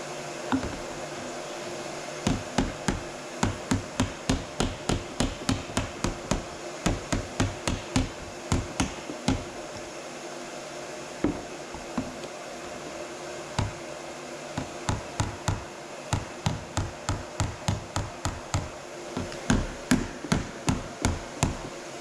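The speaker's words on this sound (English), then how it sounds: "So I'm going to put my dolly behind here and hammer this down." Rapid metallic hammer blows ring out in steady bursts, dozens of sharp strikes on a sheet metal bumper panel backed by a dolly, with brief pauses between runs, close and loud.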